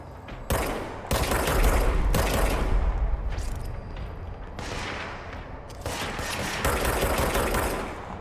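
Dense bursts of automatic gunfire from the video game Control, loud and close, arriving in several sustained volleys with brief gaps between them.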